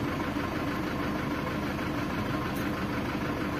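A Mitsubishi Triton engine idles roughly with white smoke and low power, giving a steady close, low rumbling drone with constant vibration throughout and no talk.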